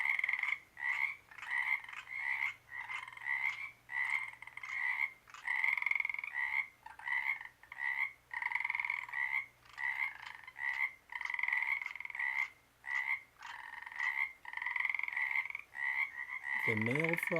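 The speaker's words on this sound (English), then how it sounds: "The male frog is creating sort of a gurgling sound" Male frog near a weedy pond patch giving repeated gurgling croaks, a steady series of short rhythmic calls close by in an otherwise quiet setting.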